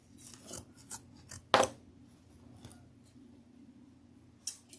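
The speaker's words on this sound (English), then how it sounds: "So these are just angled scissors." Angled scissors snip through fabric in a few quiet, close cuts, one crisp louder snip standing out amid faint rustling of cloth during mask sewing.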